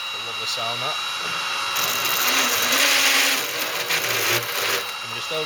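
Power drill oversizing a hole in the bodywork of a Honda CR-Z for a Mugen carbon spoiler, a steady close whine that rises and strains midway as the bit cuts, with a voice heard faintly under it.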